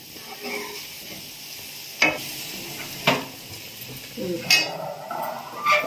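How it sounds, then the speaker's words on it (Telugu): Chili powder fries in a pan for mango chicken, a soft steady sizzle broken by a few sharp scrapes and clinks of a spoon stirring against the pan. "ఇలా కాస్త వేగనివ్వాలి. కారం కూడా చిన్న పచ్చివాసన వస్తుంది వేగకపోతే, అందుకని వేగనివ్వాలి."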